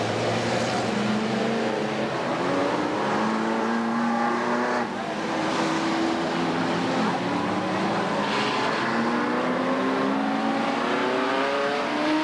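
Number 43 Camaro Sportsman race car at Redwood Acres Raceway, its engine droning loud and steady as it laps, pitch rising and falling with throttle, other cars blending into the roar.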